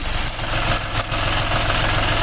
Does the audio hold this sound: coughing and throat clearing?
no